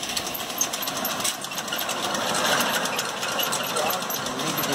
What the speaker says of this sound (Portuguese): Motorzinho de tanquinho de lavar roupa